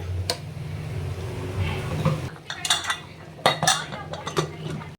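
Stacked cooking pots, pans and cutlery clattering in a home kitchen after cooking, a run of sharp metallic clinks and knocks, some loud and near, others lighter, with scraping between the bursts.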